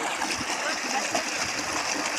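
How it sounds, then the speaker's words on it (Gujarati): Water pours steadily into a small stone tank on a farm, a broad continuous splashing rush that stays close and fairly loud for the whole stretch, with faint voices mixed in. "પાણી આવે છે"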